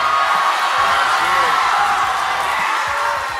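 Sustained crowd noise from an audience cheering and whooping for a contestant in a bead-count contest, loud and steady across the whole moment with yells and a shouted tone rising from the mass.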